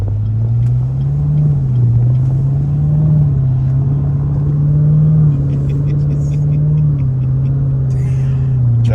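A sedan's engine rumbles steadily as the car is driven, a loud low drone that rises and dips slightly with throttle, with faint clicks and light rattles toward the end and no voices over it.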